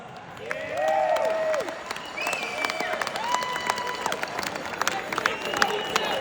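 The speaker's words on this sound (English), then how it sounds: "Please give yourselves a round of applause" Dinner-event audience applauding, a steady wash of clapping with tonal chatter and voices mixed through it, fairly close and sustained for several seconds.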